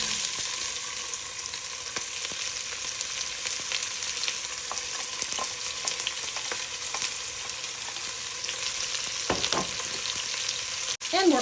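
Chopped white onion for chili sizzles steadily in a hot pan, a dense, continuous hiss that stays close and loud throughout, with occasional faint clinks near the end.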